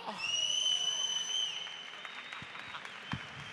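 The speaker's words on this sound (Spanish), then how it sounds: "fuerte aplauso para él, que se lo ha currado bastante." Audience applause and cheering for the host as a Spanish comedy show opens, loud and dense at first with whistle-like tones riding on top, then thinning to scattered claps.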